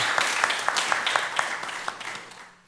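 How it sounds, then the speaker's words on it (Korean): A church congregation at a Sunday service claps together in a steady, even rhythm, a moderately distant round of applause that fades out after a couple of seconds. "우리 영광의 박수를 우리 하나님께 올려드리겠습니다"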